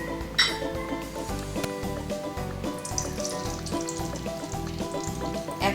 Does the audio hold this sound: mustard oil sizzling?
yes